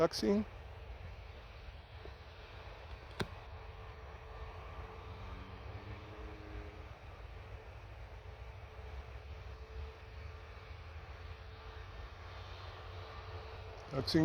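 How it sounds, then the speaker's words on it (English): An Air France Airbus A320 taxis at Orly airport in Paris, its jet engines giving a steady, moderately loud rumbling whine throughout, with a brief louder burst at the start and end. "Airbus 320 A320 Transavia, positioning on the runway and ready to take off."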